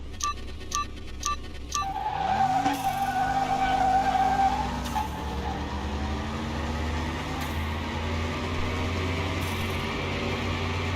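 A car race in Car Mechanic Simulator 21, with a steady engine drone that climbs and shifts through gears, after a few short clicks at the start, and continues at an even level to the end.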